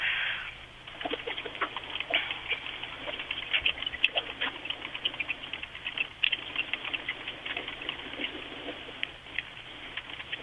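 Someone types an urgent message on a computer keyboard, producing rapid, irregular, light clicking and tapping that runs steadily and fairly faint for about ten seconds, with no voices.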